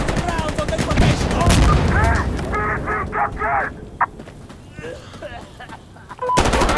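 Combat in the Insurgency Sandstorm video game: bursts of gunfire and booming mortar impacts crack and rumble in rapid volleys, with shouted voices and chatter over the battlefield noise.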